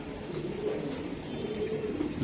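Racing pigeons coo softly and continuously in a loft, a low steady murmur of several birds with no talk over it.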